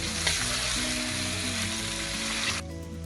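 A kilo of chicken frying in a pan for chicken karahi makes a loud, dense, steady sizzle with a low hum beneath. The sizzle drops away abruptly near the end.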